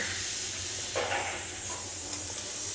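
Steam hisses steadily from a pressure cooker holding eggs and potatoes on the stove, a continuous close airy rush with a brief louder surge near the start and no voices.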